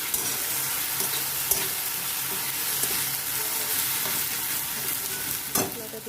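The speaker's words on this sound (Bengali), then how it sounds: "লঙ্কা হলুদ সব বাটা আছে। আপনারা কাঁচা লঙ্কা দিয়ে করলেও করতে পারবেন। আমি দিয়ে দিলাম। ভালো করে কষতে হবে মশলাটাকে।" A ground paste of ginger, garlic, chili and turmeric fries in a pan while being stirred: a continuous dense sizzle with constant scraping and a couple of sharp spatula knocks against the pan. No voices.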